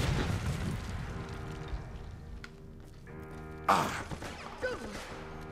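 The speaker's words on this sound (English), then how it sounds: "Oh, that's a grenade." Grenade explosion in Resident Evil: Operation Raccoon City, a single loud burst that erupts suddenly and trails off into rumbling debris, set against ongoing game music and ambience.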